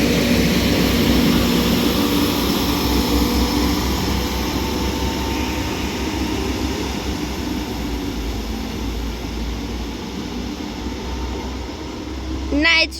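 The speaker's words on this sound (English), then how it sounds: "Now departing is going to be the 1605 Transport for Wales service to Llandudno from Manchester Airport." A Transport for Wales Class 197 diesel unit pulls away from Newton-le-Willows station on the Manchester Airport to Llandudno service, its engine a loud, steady drone with rumble throughout, and a brief squeal near the end.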